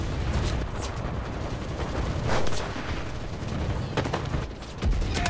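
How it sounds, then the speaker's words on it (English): Tank fire and battle noise in the World War II shooter Enlisted: dense, continuous gunfire and booming blasts with sharp shot bursts, loud and close throughout, no voice over it. "Oh my god, there's a tank shooting down on us!"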